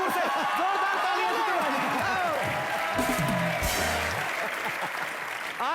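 Studio audience applause on a Hindi comedy talk show, a dense steady clapping from a large crowd heard under music and people talking, with scattered cheers and laughter.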